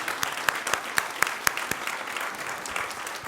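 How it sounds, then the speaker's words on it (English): Audience applause for cadets at a recognition meeting, a dense steady patter of clapping close by, with a few louder individual claps standing out throughout the short burst. "One more round of applause for these cadets."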